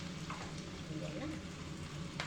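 Octopus and vegetables stir-fry in a hot pan with oyster sauce and a little cornstarch, giving a steady, close sizzle with light stirring throughout.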